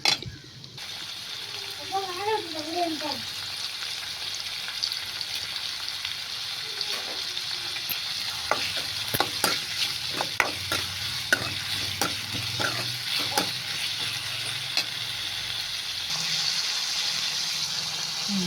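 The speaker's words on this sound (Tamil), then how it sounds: "உப்பு சேர்த்து நல்லா வதக்கி நல்லா வதங்கட்டும்" Onion, ginger-garlic and salt sautéing in a pan for a snail gravy, a soft constant sizzle with scattered clicks of a stirring spoon, heard close with a brief voice near the start.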